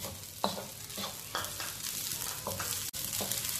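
Egg fried rice made with leftover rice and spring onion cooks in a pan, a low steady sizzle broken by a few spatula stirs and taps, no talking.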